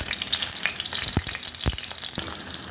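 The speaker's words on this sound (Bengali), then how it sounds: "আমি কড়াইতে তেল দিয়েছি এখন ডিমগুলোকে পিস করে কেটে নিয়েছি এভাবে কাটা ডিমগুলোকে এখন ভাজবো" Cut egg pieces fry in oil in a wok with a steady, close crackling sizzle and a few louder pops and stirring scrapes, with no talking.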